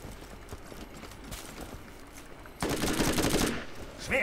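Gunfire in the Borderlands co-op game on Zombie Island, with scattered quieter shots early on, then a loud, dense burst of rapid automatic fire, followed by a sharp blast at the end.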